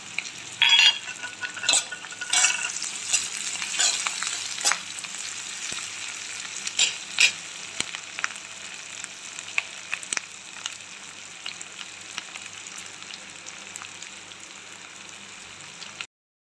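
Radish sizzles in a hot pan while being stirred, a steady bright crackle of frying broken by scraping stirs and louder pops near the start. Over time the sound settles into an even, continuous hiss with no talking.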